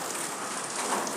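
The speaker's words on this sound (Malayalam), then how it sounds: "കുറച്ച് മഴ താണിട്ടുണ്ട്." Rain falls steadily on surfaces around a Kerala home, an even dense hiss with scattered drops, close and moderately loud, with no voices.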